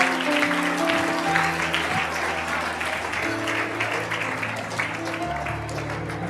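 Congregation at a church service applauding steadily and fairly loudly throughout, with sustained music or organ-like tones underneath and no clear speech.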